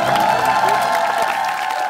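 Studio audience clapping and cheering on a Korean TV stunt show, a steady loud wash of applause with whoops throughout, no clear pauses.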